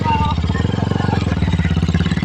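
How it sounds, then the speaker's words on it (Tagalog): A motorcycle engine runs close by at a steady idle, a rapid, even putter of regular beats, with people talking nearby. "naglarga ng motor"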